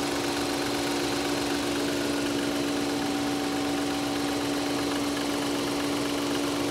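A new replacement car engine in a salvage vehicle idles steadily with a low, rough, shaky hum and a faint rattling vibration, continuous and close, with no voices.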